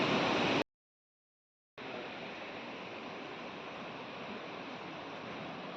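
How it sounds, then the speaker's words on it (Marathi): Marleshwar waterfall near Ratnagiri, Maharashtra, running outside the monsoon, gives a steady, even rushing roar after a brief dropout near the start. "हा बघा इथला सुंदरसा धबधबा"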